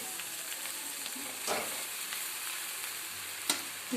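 Soaked puffed rice sautés in a pan, a steady gentle sizzle with a few soft stirring scrapes and one sharp clink near the end, close and without talk.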